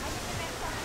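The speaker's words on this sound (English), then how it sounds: "As waves crash into a narrow inlet, they create a thunderous roar that resonates through the surrounding cliffs." Ocean waves surging into the narrow rock inlet of Thunder Hole in Acadia National Park, a dense, close, steady roaring wash of water that fills the brief moment.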